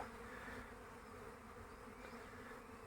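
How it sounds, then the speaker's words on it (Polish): Steady buzzing hum of many honey bees flying close by, working around flowering rapeseed, a continuous drone with no voices. "Jest pogoda, pracują pszczoły."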